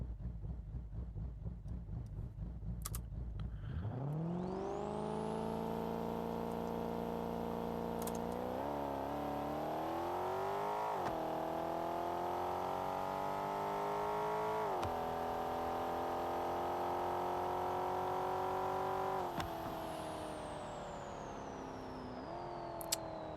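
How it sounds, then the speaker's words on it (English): A BeamNG.drive muscle truck with a 5.3 engine and trans brake idles briefly before a four-wheel drive launch, then screams up to high revs and holds a sustained, loud, rising engine wail for about fifteen seconds before easing off. "But we're going to do a four-wheel drive launch."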